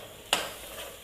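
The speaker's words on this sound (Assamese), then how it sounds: "কেপচিকামখিনি হোৱাৰ অলপ ভাজি ল'ম 2 মিনিটমান সময়।" Capsicum for chicken curry hits a hot pan on full heat with one sudden sharp sizzle, then settles into a steady, soft frying hiss.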